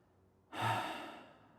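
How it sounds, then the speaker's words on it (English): A single deep breath is drawn and released with an airy, close whoosh after a moment of quiet, then slowly trails off. "Just breathing and just noticing the tightness."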